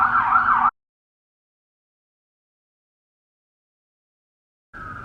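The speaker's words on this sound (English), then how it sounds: "Sorry, I'm just gonna wait for that siren to go by." Wailing emergency vehicle siren passing outside, heard loud in a short burst at the start, then a gap of silence before it returns more faintly at the end.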